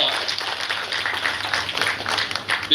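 An audience gives a round of applause to a citizenship team at a Jamaican agency's live event, a sustained, moderately loud patter of many hands with uneven swells.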